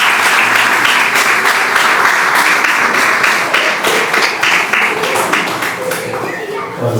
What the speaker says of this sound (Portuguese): Um forte aplauso para ele.